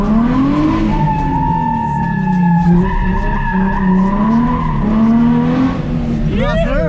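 A car drifts with a long, loud, sustained squeal of skidding tires, the pitch wavering over a steady engine roar, and a voice breaks in briefly near the end.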